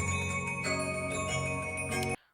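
A short, bright electronic game tune from a Roblox game plays, tinkling synth notes for about two seconds, then cuts off abruptly into a brief fading tail.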